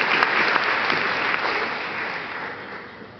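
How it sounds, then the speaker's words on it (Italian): A festival audience breaks into sustained, dense applause, loud at first and gradually fading over a few seconds, with no voices on top. "Io direi di fare un applauso."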